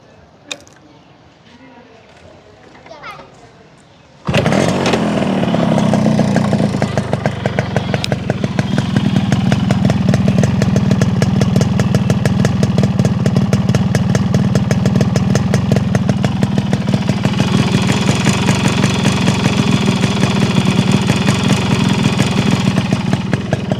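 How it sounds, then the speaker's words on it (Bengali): A Yamaha RX115 motorcycle engine: a few seconds of quiet handling, then the engine fires and runs loud and close at a steady, rapid idle until the end. "এবার আপনাদেরকে গাড়ির ইঞ্জিনের সাউন্ডটা একটু শোনাই দিব।"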